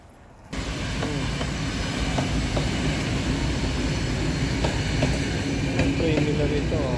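A train rolls past near the waterfalls of Flåm, Norway, arriving abruptly as a loud, steady rumble with faint rhythmic clatter that holds throughout.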